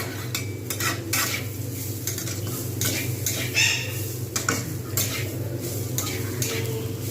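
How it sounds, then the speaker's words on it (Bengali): Moong dal and cabbage fry with tempering spices in a pan as a utensil stirs and scrapes in quick, repeated strokes over a low, steady sizzle close by. "জাস্ট আমি ফোড়ন দিয়ে এইটাকে ভালো করে ভেজে নিয়ে"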